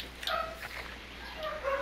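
A dog barks and yips faintly in the background during an online Rainbow Six Siege match, with short high-pitched calls spread across the moment and no talk over them.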